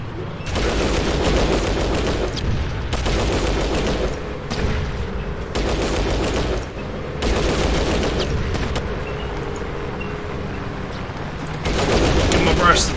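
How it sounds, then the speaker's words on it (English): Shotgun blasts in the video game Fallout Tactics, heard as several loud, boxy bursts spaced a second or two apart, with quieter gaps between them. "Give him a burst of the old shotgun."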